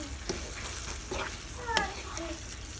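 Eggs and ground meat being stirred and broken up in a frying pan for breakfast burritos, a steady low sizzle with soft scraping strokes and a few brief clinks, faint voice-like tones mixed in.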